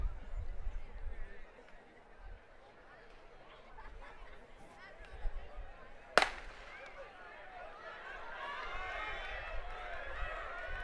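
A single starting gun cracks sharply at a high school track relay meet, one loud isolated report rising above a murmur of crowd chatter and distant voices, followed by a swell of cheering.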